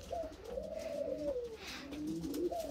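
Soft, close homing pigeon cooing: a few low, rolling coos repeating over a couple of seconds in a quiet setting.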